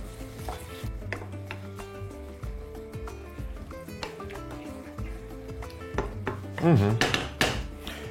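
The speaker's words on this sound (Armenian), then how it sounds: "Մոտ 2 րոպե այսպես խառնելով եփում ենք" Rice simmering in sauce in a pot for a lamb and mango dish, stirred continuously with scraping and clinking against the pot over a soft bubbling sizzle, louder near the end.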